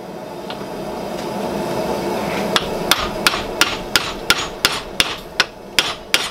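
Hammer blows drive a drift through a hole in hot forged steel for a blacksmith's bottle opener, about a dozen sharp metallic strikes ringing in a steady, quickening rhythm after a quieter start, loud and close with no talk.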